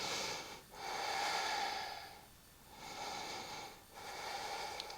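Deep, slow breaths drawn and released while holding a yoga pose for strong legs and front splits, about three long, airy inhale-exhale cycles with short pauses between, close and fairly quiet.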